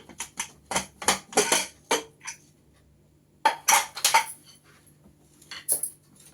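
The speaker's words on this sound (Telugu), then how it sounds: "కుక్కర్ చల్లారిపోయిందండి ఇప్పుడు మూత తీసి" Metal clanks and rattles as a cooled pressure cooker lid is worked loose and lifted, in short bursts with quiet gaps between.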